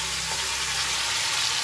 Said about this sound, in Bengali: ভাজা ভাজা হবে।